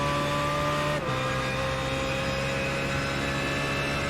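GT3-class BMW race car engine in a racing video game, a steady loud drone with a brief dip as it shifts gear, then holding a sustained high note throughout, with no talk.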